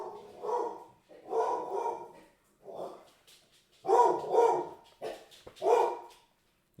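Dogs bark in a series of loud, close bursts, some in quick doubles, with short pauses between them in an otherwise quiet indoor room.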